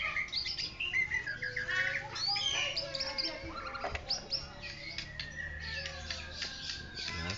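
A four-month-old Bahorok white-rumped shama sings a rapid, varied stream of whistles, trills and harsh squawky notes, close and lively, with faint background noise.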